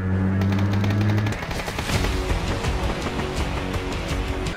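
Automatic gunfire in the PUBG battle royale video game, with loud sustained rapid bursts filling the clip, opening over a steady low engine-like drone that cuts off after the first second, followed by continued dense firing.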